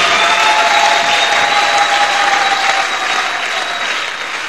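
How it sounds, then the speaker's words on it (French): A church congregation breaks into loud, sustained applause that fills the space evenly and fades slightly toward the end, with no speech over it. "Acclame ton voisin qui reste à son poste."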